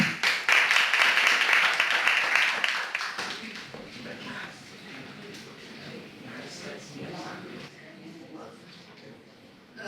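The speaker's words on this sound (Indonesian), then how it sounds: "Tepuk tangan untuk Simu." Applause from a small audience at an Indonesian photography gathering greets a photographer coming forward, loud dense clapping for about three seconds that then drops to a softer murmur of voices and scattered noise.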